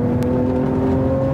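A Lamborghini Aventador with a V12 mid-engine circles a 150-meter skid pad at about 120 km/h, giving a loud, steady, close engine whir with no talk.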